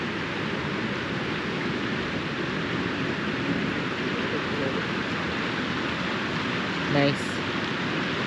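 Snowmelt floodwater at a flooded Kaibab Lake rushes in a steady, broad roar that fills the scene, with a brief spoken word heard over it.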